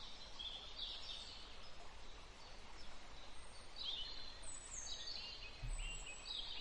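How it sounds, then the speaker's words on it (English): Birds chirping outdoors, faint scattered high tweets and short song phrases over a soft background hiss, distant and intermittent with no talk. "You guys enjoy the sound of the birds."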